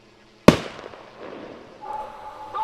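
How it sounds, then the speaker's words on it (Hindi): A single sharp firecracker bang fired from a bear-repelling drone goes off close by, then decays into a faint rumbling tail. "ड्रोन न सिर्फ भौंकने की आवाजें निकालता है, बल्कि जरूरत पड़ने पर पटाखे भी दागता है ताकि भालू डरकर भाग जाएं।"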